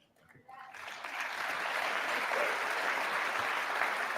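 Applause from the audience in Congress during Trump's address, swelling up from near quiet into a broad, sustained roar of many hands that stays full and steady, with faint voices mixed underneath.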